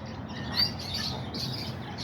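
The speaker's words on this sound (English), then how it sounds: "some kind of bird" A few faint, high bird chirps come from somewhere outdoors near backyard chickens and rabbits, over a steady background hiss with no one talking.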